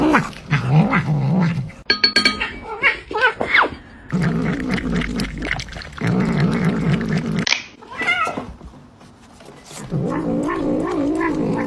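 A cat meows and caterwauls repeatedly in a short online video clip, loud, close, drawn-out yowls with growling tones in irregular bursts separated by brief pauses.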